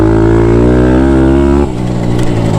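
A Thumpstar TSX140 pit bike engine revs hard near redline for about a second and a half, steady and loud with a rising buzzy tone, then drops off abruptly into a rougher, lower idle-like rumble.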